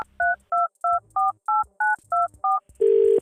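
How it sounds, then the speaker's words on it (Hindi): A telephone number dialed on a keypad, with eight evenly spaced dual-tone beeps in quick succession followed by a steady, louder ringing tone, clear and close with no talking. "फोन मिलाओ।"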